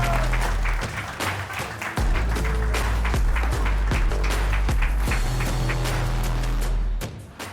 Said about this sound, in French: Vos applaudissements pour Marc Pernaut.